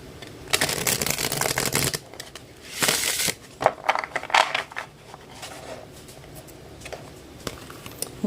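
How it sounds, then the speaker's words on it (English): Glossy tarot cards being shuffled by hand, a series of close, crisp riffling and sliding bursts with short pauses between them and no talking. "Okay, we're going to shuffle the cards."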